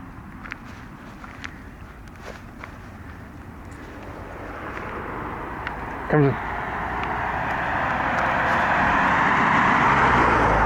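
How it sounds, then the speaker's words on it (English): Footsteps crunch along a road while a car approaches from about a quarter mile away, its engine noise swelling steadily louder toward the end. "Another car is coming, I can hear it from a good quarter mile away."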